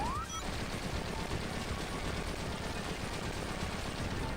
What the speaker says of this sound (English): I've always loved, low-key loved, the very crunchy explosion sound effects on the Mega Drive.